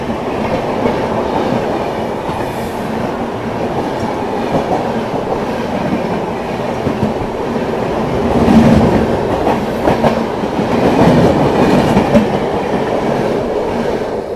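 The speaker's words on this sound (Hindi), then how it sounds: "ये थी दोस्तों न्यू दिल्ली देहरादून शताब्दी।" The New Delhi–Dehradun Shatabdi Express rushes past at high speed with a steady, loud roar of wheels and carriages, rising slightly in surges, with continuous clatter throughout.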